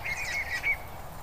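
Several short, high, thin peeping calls from young Muscovy ducklings, close and moderately loud over low background noise, with no voices.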